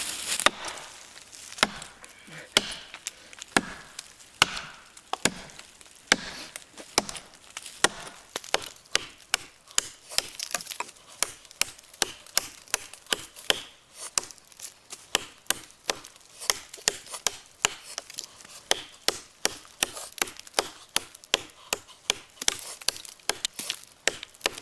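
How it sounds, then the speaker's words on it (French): A Husqvarna hobby axe chops into a thick log, sending off wood chips. Sharp woody chops come one after another in a steady rhythm, close and loud with no talking, speeding up toward the end. "On voit quand même que la hache enlève de très jolis copeaux"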